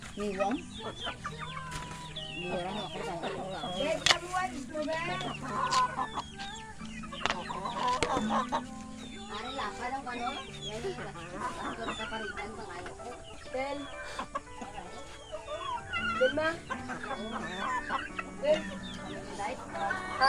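Chickens cluck and chatter continuously nearby, busy overlapping calls, with people talking over them throughout.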